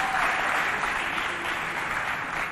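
Steady applause for a children's team at a quiz competition between children's foundations, a soft, even wash of clapping heard alone at a moderate distance.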